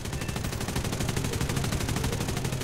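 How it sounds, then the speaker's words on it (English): Aircraft machine guns rattle in War Thunder as a rapid, continuous stream of evenly spaced shots, loud and sustained for the whole stretch. "Now you can see I am being shot from the rear"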